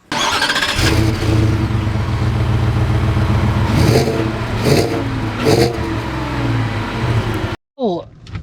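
A 2025 Ford F-150 regular cab with the 5.0L V8 runs loud and close, its engine rumbling steadily and rising in a few revving surges before cutting off near the end.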